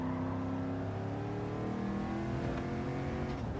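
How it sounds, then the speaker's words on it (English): Computer power supply whining under a desk, a steady droning hum with layered tonal whine that holds constant throughout, with no talking. "The power supply down there is making a noise."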